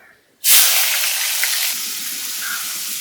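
Cinnamon, cardamom and onion paste hit hot oil left from frying meat kofta, bursting into a loud, sudden sizzle after a moment of quiet, then a steady close hiss that eases slightly while continuing.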